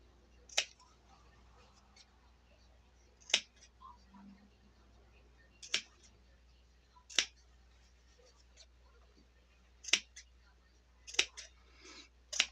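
Scissors snipping fabric while sewing a jar gripper, close sharp metallic snips in a slow irregular series of about eight cuts, separated by quiet gaps.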